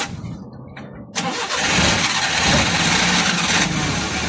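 An engine cranks briefly, catches with a sudden loud burst, and then settles into a steady, close running roar.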